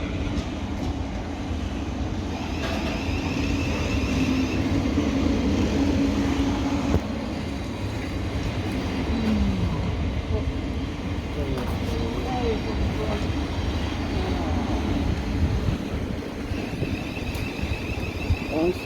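A train rumbles through Three Bridges station, a steady loud low roar with rail noise lasting throughout, while people chat nearby.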